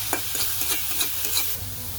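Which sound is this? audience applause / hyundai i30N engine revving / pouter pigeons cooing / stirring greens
stirring greens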